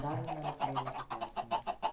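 Chickens cluck in a short rhythmic series of bursts on a Minecraft chicken farm, close and moderately loud, with no talk over them.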